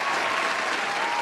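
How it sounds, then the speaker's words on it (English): A dense, even round of applause from a crowd, loud and continuous with no gaps, filling the whole short stretch. "We're gonna give y'all a round of applause"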